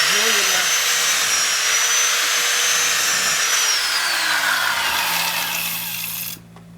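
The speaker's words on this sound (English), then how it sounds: "again using consistent drill speed and pressure" A power drill whines steadily as it bores holes into a ski for telemark bindings, loud and close, its pitch sliding slightly before stopping abruptly near the end.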